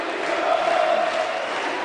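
A boxing-match crowd at ringside cheering and applauding between rounds, a steady, dense roar of many voices with a raised shout rising in the middle, loud and continuous.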